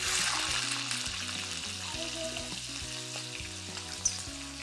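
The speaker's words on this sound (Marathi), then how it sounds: "कढईमध्ये तेल गरम केलं. यामध्ये आपण अर्धा चमचा जिरं घालूया आणि पावटा." Cumin seeds and pavta beans fry in hot oil in a kadhai, giving a continuous, fairly faint crackling sizzle with light stirring and no talk.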